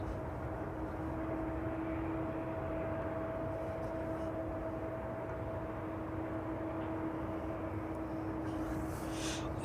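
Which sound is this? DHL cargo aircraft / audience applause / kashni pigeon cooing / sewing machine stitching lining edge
DHL cargo aircraft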